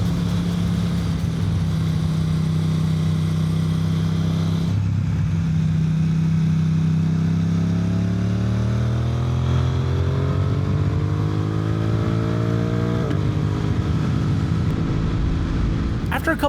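A motorcycle fitted with an SC Project exhaust is ridden on a race track, its engine droning loud and close, with a drop at a gear change and then a long rising pitch as it accelerates hard, all mixed with wind rush.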